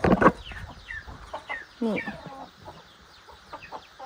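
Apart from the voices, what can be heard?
chickens clucking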